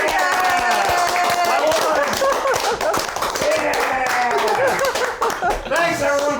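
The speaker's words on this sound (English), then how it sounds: "can we get a round of applause for our chef?" A small group claps for a chef at a live evening gathering in a villa, with uneven close claps mixed with chatter and light laughter.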